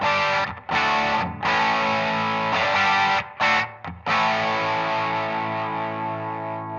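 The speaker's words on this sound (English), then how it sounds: "So if that K is flashing, you're just going to hear my dry guitar signal." An electric guitar with overdrive, played dry with no wah, rings out sustained distorted chords in several long strummed phrases separated by brief gaps, loud and close with no talking.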